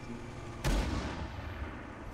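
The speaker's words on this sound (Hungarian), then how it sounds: "Valaki lövöldöz én szerintem, előttem." A single sharp gunshot cracks in the video game Silica, loud and abrupt against a quiet background, then rings out into a fading tail.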